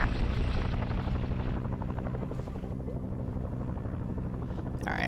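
A helicopter drones in a Vietnam War multiplayer video game, a steady rotor thump and engine hum that stays continuous and fairly loud throughout.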